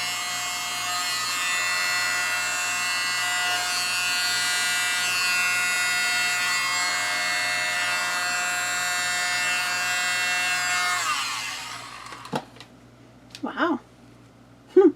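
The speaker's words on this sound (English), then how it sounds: "It's a strong little leaf blower." A small battery leaf blower's electric motor whines steadily at high pitch for several seconds, then cuts off, followed by a few brief clicks and faint sounds.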